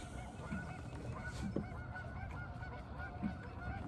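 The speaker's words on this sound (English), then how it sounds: "y'all geese gotta shut it" Geese honking beside the Duck River, several short calls at about half-second, one-and-a-half and three-and-a-quarter seconds over steady outdoor background noise and wind.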